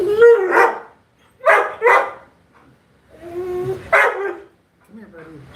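A needy puppy barks and yips for attention indoors, several close sharp barks in uneven bursts with short whimpering pauses between them.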